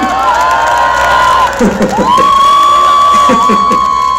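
Crowd cheering and whooping at an outdoor political campaign rally in Yeongdeungpo, Seoul, loud and sustained, with whistles and shouts swelling over a continuous roar.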